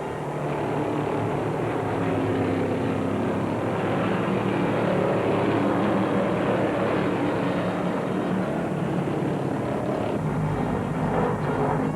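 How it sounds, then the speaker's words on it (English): Stock cars at a 1971 NASCAR Grand National race at Ontario Motor Speedway, California, including a Dodge, roar as a steady, dense engine drone that fills the whole stretch with no pauses and no talk. "Freddie is pushing his Dodge harder on every lap, trying to stretch the lead"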